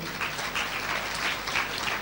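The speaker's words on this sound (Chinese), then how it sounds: "我们再一次给我们 Kington 生命净化液一个掌声" An audience at a Q&A presentation applauds, a dense, even patter of many hands clapping for the full two seconds at moderate volume.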